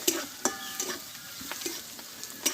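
Scrambled egg being stirred in a frying pan, light scraping and tapping of a utensil against the pan at irregular intervals over a faint soft sizzle.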